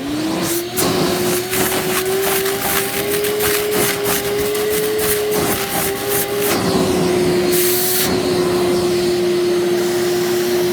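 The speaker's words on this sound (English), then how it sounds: "Put the shop vac back on vacuum." A shop vac sucks up spilled oil beside a compressed-air turbine rig, a loud continuous whine with a steady pitch and gurgling, sputtering bursts as liquid is drawn in, running without pause throughout.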